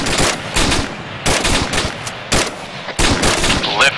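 Machine gun fire in a combat video game, sustained rapid bursts broken by brief pauses, loud and close, with no talk over it.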